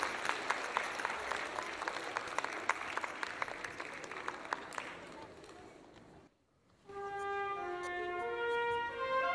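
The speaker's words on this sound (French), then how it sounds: "puis vient le chef d'orchestre sous les applaudissements" Concert-hall applause greets the conductor of the Philharmonic Orchestra of Morocco as he walks on, a soft but dense clapping crowd for about six seconds that stops before sustained orchestral tones begin.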